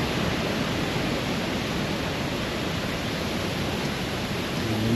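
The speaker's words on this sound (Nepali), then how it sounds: "झर्ना भेटेको छु" A waterfall on the Annapurna trail in Nepal, a steady broadband rush of falling water heard close and loud without pause, with no voices.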